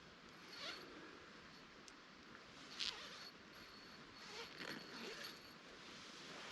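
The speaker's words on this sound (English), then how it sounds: "Zippers work well." A faint zipper on a hammock rasps in short, scratchy pulls against a quiet hiss, with a few quick tugs spread apart.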